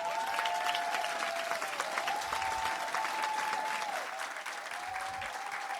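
Audience at a Brazilian responsible-tourism forum on women and territory applauds steadily, a dense wash of clapping with a few cheers, sustained and fairly loud throughout.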